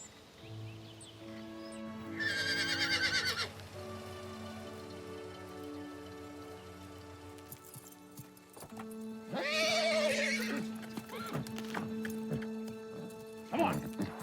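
A horse whinnies in loud bursts, with hooves thudding and shuffling between the calls and some background patter.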